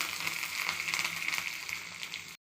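Shallots and curry leaves frying in hot oil for sambar, a steady close bright sizzle with crackling pops running continuously before cutting off abruptly.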